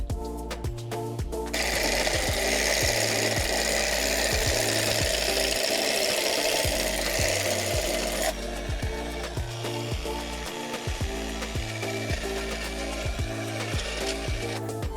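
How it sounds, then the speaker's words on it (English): Loud, rhythmic mechanical rattling and grinding of a power drill boring a hole, steady throughout with a harsh buzzing edge. "So I did want to get this hole drilled"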